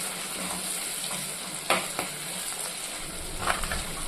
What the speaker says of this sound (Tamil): மல்லித்தலை சேர்த்து நல்லா தக்காளி கூட வதக்கிடுவோம்